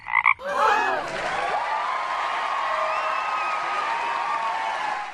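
Frog croaking sound effect: a couple of short loud croaks at the start, then a long sustained warbling croak that holds steady for several seconds, with no talk.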